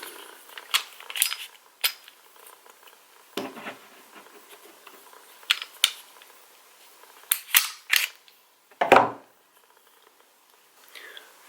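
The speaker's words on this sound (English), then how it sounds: "To show it, let's remove the slide." Slide being removed from a Sig Sauer custom-build pistol chambered in 22 TCM: a string of sharp metallic clicks and clacks, close and distinct, with a louder sliding snap near the end and quiet pauses between.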